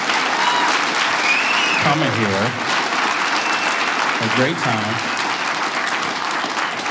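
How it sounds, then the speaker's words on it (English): Audience applause at a stand-up comedy special, a steady roar of clapping throughout with the comedian's voice cutting in briefly over it twice. "give yourselves a round of applause"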